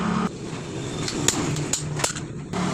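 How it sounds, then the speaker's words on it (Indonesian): A hammer taps gently a few times, knocking the oil seal out of a carbureted Honda Vario scooter's radiator pump, with light metallic clinks over a low background hum. "Lalu dipukul pakai palu pelan-pelan aja."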